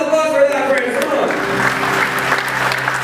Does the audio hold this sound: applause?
yes